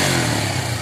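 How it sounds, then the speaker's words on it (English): Suzuki Gixxer 250cc motorcycle with its stock exhaust, a loud, steady, close engine rumble heard alone for a brief moment. "that's a big loud, that's a stock exhaust sound gas."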